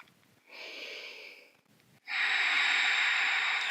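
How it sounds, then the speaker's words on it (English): Deep breaths drawn in and pushed out through the nose, a short airy inhale followed by a longer, louder, rushing exhale, close and alone. "Taking deep inhales and exhales in and out through the nose."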